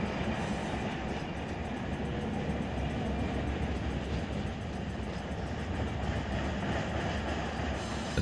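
Freight train cars rolling past in the Run 8 Train Simulator video game, a steady dense rumble of wheels and cars that holds at a constant loud level without a break.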